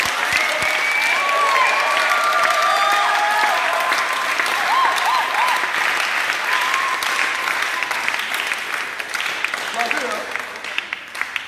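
A church congregation applauds in sustained, dense clapping with some voices calling out over it, loud at first and gradually thinning toward the end.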